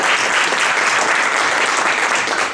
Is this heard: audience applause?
yes